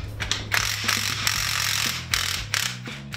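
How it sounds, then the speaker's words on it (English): Spring adjusters being loosened on the front suspension of a 2015 Ferrari 458 Speciale give a run of close, loud mechanical clicks and ratcheting clatter with metallic scraping, steady for about three seconds. "Then we can take our adjusters and loosen them up."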